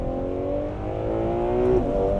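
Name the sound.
Ferrari 12Cilindri Spider V12 engine revving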